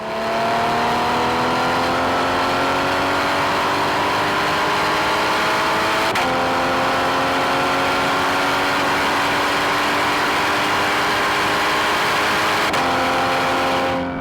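A Porsche Cayman GTS engine pulls hard and loud through the gears, its rising wail dropping sharply at two upshifts before climbing again, heard from inside the car with no voices.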